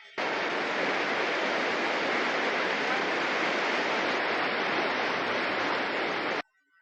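Steady rushing water, like a waterfall or fast stream, from a scene in the 1968 film Planet of the Apes: a dense, even roar that holds for about six seconds and then cuts off abruptly.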